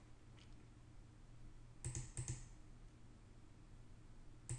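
Someone enters a password on a computer keyboard: a few quick, faint keystroke clicks in a short burst, then one more near the end, over low room hum.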